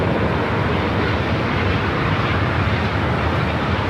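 A Japanese airliner departing LAX for Haneda gives off a continuous, loud, dense jet engine roar, heavy at the low end and steady throughout.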